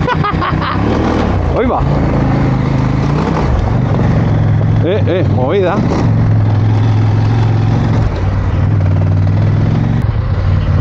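A group of motorcycles sets off together on a Christmas ride, engines idling and then revving in several rising bursts close by, with people talking and calling out over the running engines.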